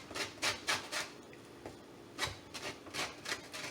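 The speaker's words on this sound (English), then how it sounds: "It says grate about 1 teaspoon" A small orange's peel rasped against a grater, giving rhythmic scraping strokes in two bursts, close and fairly quiet, with no talk.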